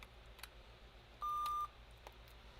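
A laptop motherboard under repair, battery just plugged in, gives a single clear electronic beep of about half a second, near and loud against a quiet room hum, with faint small clicks before and after.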